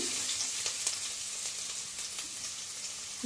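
Chopped onion and two or three dried chilies sizzle in hot oil inside a rice cooker, a bright, constant crackle with small pops throughout.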